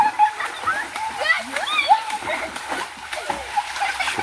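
Young men bathing in a village pond in rural Bangladesh splash and slosh the water in irregular bursts, while lively voices and shouts carry over the splashing throughout.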